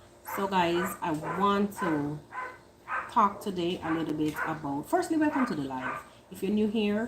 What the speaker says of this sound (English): If you hear a lot of noise in the background, it's just the neighbors' dogs.